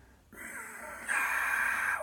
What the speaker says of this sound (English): make a sighing, whistling, silky sound called ujjayi breath in Sanskrit